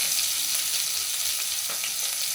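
Sliced onion and green chillies sizzle steadily in a hot pan of oil while chilli chicken is being cooked, a close, bright hiss that runs continuously with faint crackles and no voices.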